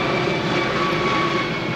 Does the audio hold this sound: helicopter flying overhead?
yes